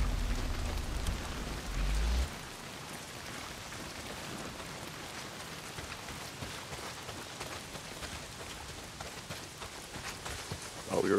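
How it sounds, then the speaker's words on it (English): Heavy rain pours in Days Gone, an open-world zombie game set in post-apocalyptic Oregon, a constant soft hiss of downpour after a brief low rumble at the start, with no voices. "not if it's pissing down rain"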